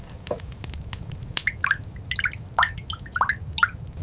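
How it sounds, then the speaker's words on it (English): Water drips through a leak in a Viking turf roof, giving sparse, irregular, clear single drops, some close together, over a low quiet background. "The leak. Water dripping."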